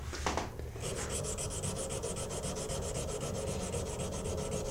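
A knife blade being hand sanded with 220 grit sandpaper, even rhythmic rubbing strokes repeating steadily and close, with a brief scuff at the start and no voices.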